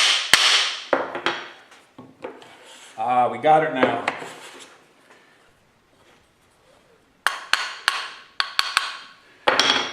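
A small, light hammer taps the metal of a hand plane in several quick, sharp bursts of clinking strikes, with someone talking in between and a pause of near silence midway.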